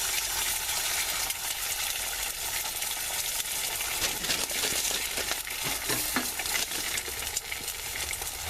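Scrambled eggs fry in a stainless steel skillet with a steady bright sizzle, broken by intermittent scraping and stirring clicks from a utensil, close and continuous.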